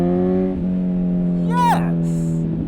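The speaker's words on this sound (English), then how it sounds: "Nobody would know what this bike can sound like unless you put an exhaust on it." Honda Hornet motorcycle with a Yoshimura aftermarket exhaust idles loudly with a deep steady drone, then a sharp throttle blip rises and falls quickly while people talk nearby.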